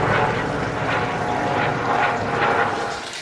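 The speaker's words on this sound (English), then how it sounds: "Here we've got a helicopter flying." A helicopter flies overhead in a backyard pond garden, its steady rotor and engine drone loud and continuous with a faint pulsing beat throughout, no talking.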